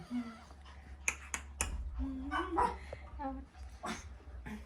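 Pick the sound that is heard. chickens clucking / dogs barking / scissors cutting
dogs barking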